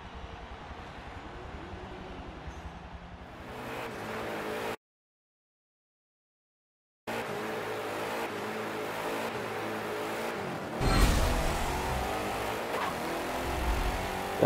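Race car engine in a video game test drive during tuning, a sustained engine drone with revving and gear changes, broken by a sudden two-second gap of silence, then resuming with a louder surge near the end.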